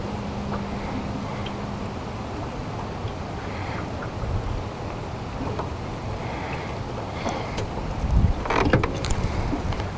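Steady broadband wind rushes over a lake around a small boat during a December fly-fishing outing, a continuous low roar with a brief louder gust and some rustling near the end.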